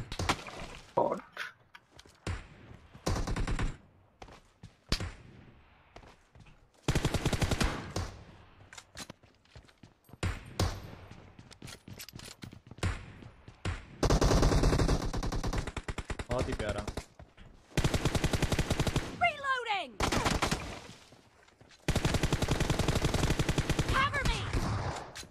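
Gunfire in the mobile game PUBG Mobile during a team deathmatch comes in loud bursts of rapid automatic shots with short gaps between them, while players talk over it.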